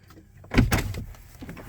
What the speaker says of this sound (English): what I meant by the doors unlocking electrically is this button